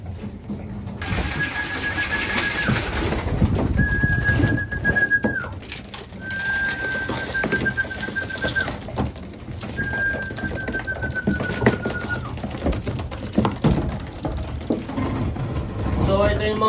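Breeder pigeons coo softly in a loft, low murmuring calls beneath someone talking, with a steady high whine recurring in several long stretches through the background.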